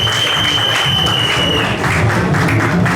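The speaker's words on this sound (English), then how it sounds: "So clap for him." An audience at a political gathering in Washington DC applauds in a dense, steady wash of clapping that stays loud for the full few seconds, with faint voices mixed in.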